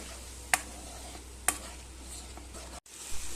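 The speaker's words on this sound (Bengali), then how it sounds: "এবার ভালো করে আমি মশলাটা কষিয়ে নেব 2-3 মিনিট" Spice paste for chital fish muitha is stir-fried in a pan with a little added water, giving a soft steady sizzle broken by two sharp clicks of a spatula against the pan and a brief dropout near the end.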